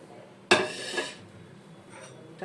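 A metal ladle clanks sharply once against a pot of thick semolina batter for Bengali palm malpua, followed by a softer knock and faint scraping in a quiet kitchen.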